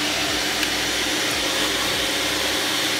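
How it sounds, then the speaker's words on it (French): A vacuum cleaner runs steadily while cleaning dust and cobwebs out of a PC tower, giving a loud, continuous whooshing drone with no pauses and no voices. "On va allumer l'aspirateur, donc j'espère que ça va pas faire trop de bruit."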